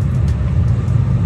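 Loud, steady low-pitched engine drone and road rumble heard from inside a moving Ford Fiesta, continuous and close for the whole moment.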